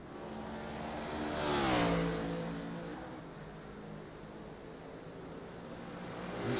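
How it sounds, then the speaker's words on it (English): A slowed race car at Watkins Glen in a sim racing game whines past with its engine note rising and then falling away. It is faint and distant, and a steady drone continues afterward. "You can hear that car is not up to full bore."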